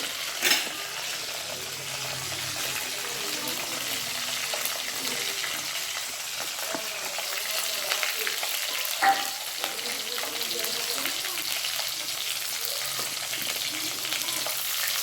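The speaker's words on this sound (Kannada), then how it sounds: "ಈಗ ಈರುಳ್ಳಿ ಹಾಕಿ ಆಮೇಲೆ ಫ್ಲೇಮ್ ಜಾಸ್ತಿ ಮಾಡಿ" Onions frying in a pan over a high flame, a steady close sizzle with broad hiss, a few clinks of a spoon or spatula against the pan, and no speech.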